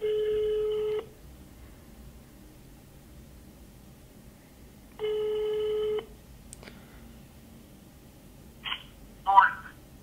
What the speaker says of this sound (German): Aber ich würde vorschlagen, dass wir kurz den Teddy anrufen und fragen, ob er schon bei Erdem ist